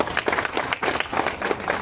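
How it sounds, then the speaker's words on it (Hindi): An audience at a DJ union meeting gives a short burst of rhythmic clapping, a few claps per second, close and moderately loud, with no talking over it. "सुने को तो ताली बजाकर सम्मान करो ना बाबा"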